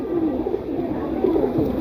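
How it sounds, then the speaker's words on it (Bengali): A male green-necked, red-eyed pigeon gives a low, steady coo. Its throaty warble carries through about two seconds of constant background noise and sounds fairly close. "এ হচ্ছে একটা নর কবুতর লাল গিয়ারের সবুজ গলা স্টাইলের কবুতর নর"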